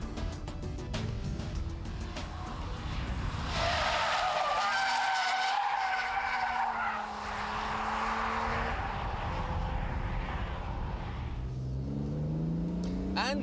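In a racing video game, tyres screech and skid under full throttle alongside a revving engine; the squeal swells and bends in pitch for several seconds while a voice talks over it.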